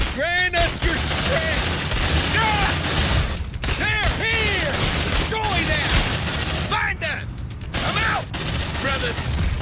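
Dense, continuous gunfire in a firefight in the sci-fi game Aliens: Dark Descent, rapid bursts with sharp transients filling nearly ten seconds, overlaid by frequent shouted voices and whistling effects.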